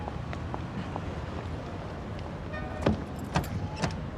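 People climb into a car, with a few distinct clunks and rustles of doors and movement standing out near the end over a low, steady ambient rumble; no speech is heard.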